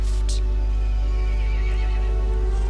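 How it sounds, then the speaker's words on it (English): A horse in the Resident Evil Village game lets out a loud, close whinny, with a brief clip-clop of hooves over a deep, droning background. "The horse grew angry and summoned the other monsters."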